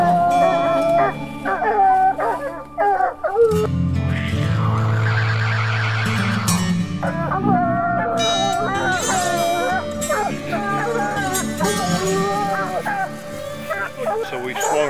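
Coon hunting dogs bark and yip excitedly at a treed raccoon, mixing rapid barks with whimpers and drawn-out howls in a loud, continuous chorus close by.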